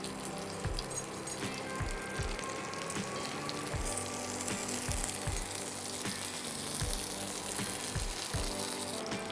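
Mourala fish patties wrapped in bottle gourd leaves fry in oil, giving a quiet continuous sizzle with a few soft thumps and clinks at intervals, close by, without speech.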